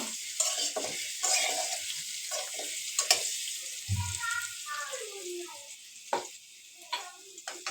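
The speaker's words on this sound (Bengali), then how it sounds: "একটু ডিম দিয়ে আমি একটু হালকা ভাজা দিয়ে নেব" Egg lightly frying in a home kitchen pan for khichuri, a steady soft sizzle with scattered clinks and stirring scrapes throughout, close and moderately quiet.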